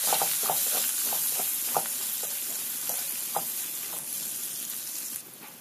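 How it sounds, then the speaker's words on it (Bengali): Cumin, bay leaf, chopped green chilli and chopped onion sizzle in hot oil for a cabbage dish, a steady close hiss broken by scattered small pops and crackles that ease off near the end. "আর ওই তেলের মধ্যে দিয়ে দেব জিরা, তেজপাতা, কাঁচামরিচ কুচি, পেঁয়াজ কুচি,"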